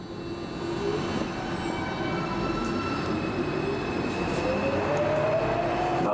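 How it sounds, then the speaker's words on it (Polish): Train ride in the video game Hugo: Gorączka Czarnych Diamentów: a steady, loud rumble of rolling carriages with a thin wheel squeal rising toward the end, with no talk. "No dobra, to wsiadamy do pociągu,"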